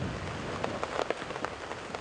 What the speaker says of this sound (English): It's just a good, solid, heavy rain, and with this wind blowing in a very strong,